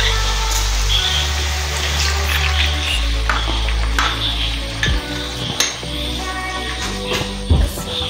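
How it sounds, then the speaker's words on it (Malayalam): A teaspoon of cornflour stirred into a little water, poured into a pan of sausage fry, heard as a liquid splash and stirring scrapes with a few utensil knocks against the pan, close and moderately loud. "അത് കുറച്ച് വെള്ളത്തിൽ കലക്കിയ ശേഷം ഇതിലേക്ക് ഒഴിക്കണം."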